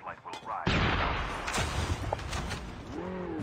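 Gunshots ring out outdoors, with a couple of sharp, booming cracks followed by rumbling echo, and faint voices in the background.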